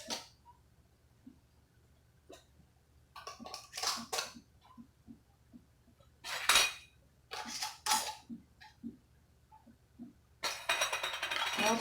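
Metal canning jar bands are screwed onto jars of strawberry jam in a quiet kitchen, giving off scattered clinks, scrapes and small metallic clatters at close range with pauses in between.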